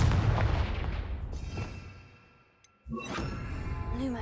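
A Confringo spell blast in Hogwarts Legacy during a haunted Hogsmeade scene: a loud burst with a sharp whoosh tails off into near silence, then a second bright impact and ringing crackle follow, with no talking.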